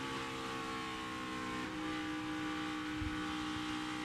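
NASCAR Cup Series stock cars race around the track at the Hollywood Casino 400, a steady, faint, distant roar of engines with no talk.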